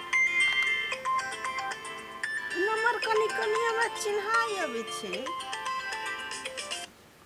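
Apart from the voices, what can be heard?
mobile phone ringtone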